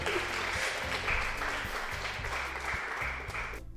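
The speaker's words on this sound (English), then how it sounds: "Everybody applaud for Monica." Canned applause plays during a stream of the video game Doki Doki Literature Club, a steady burst of clapping over a thumping musical backing that cuts off abruptly at the end.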